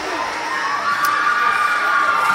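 An excited crowd with high-pitched shouts cheers loudly and continuously at an acrobatics and tumbling conference final between Wingate and Lander.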